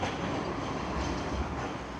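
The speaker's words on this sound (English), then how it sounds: "Oh, there goes a tram check." A Blackpool tram rumbles past at night on the promenade with a steady, loud, broad roar of wheels and motor that holds level throughout, heard without talking.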